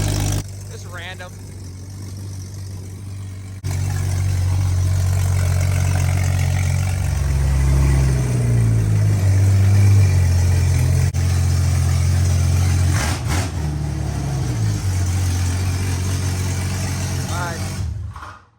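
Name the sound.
Jeep Cherokee engine idling with exhaust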